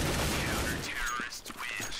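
Sharp gunshot cracks from a P250 pistol in Counter-Strike: Global Offensive on de_mirage, a few quick reports over a busy noisy background of game effects and murmured talk.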